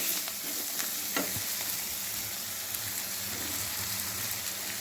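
Potatoes fry in a pan as they are stirred and broken up for stuffing capsicums. A steady, loud sizzle runs throughout, with occasional utensil scrapes.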